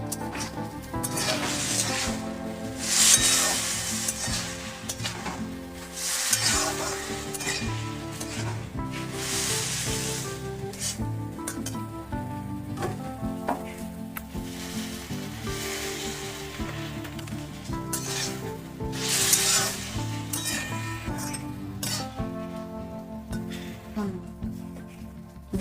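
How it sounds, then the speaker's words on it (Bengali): Drumsticks and potatoes stir-fried with soaked cumin, coriander and chili powder in a pan, a low sizzle and occasional stirring under continuous background music. "ধনে জিরে দিয়েছি, তার জন্য একটু সামান্য জল দিয়ে নাড়াচাড়া করব, একটু কষাবো ডাটা আলু"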